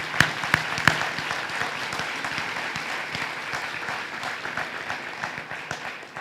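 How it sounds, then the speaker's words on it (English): A steady round of audience applause at an awards acceptance speech, many hands clapping together at an even level from start to finish, with a few sharper claps near the start. "So let's give them a round of applause."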